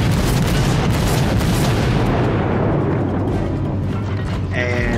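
Cruiser guns fire in World of Warships, the Japanese Kuma at tier IV, a dense roaring boom of artillery that rumbles steadily and then fades slightly.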